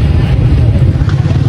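A motorcycle engine rumbles steadily and close by at a crowded seaside spot in Karachi, a continuous low drone with slight clattering and no pauses.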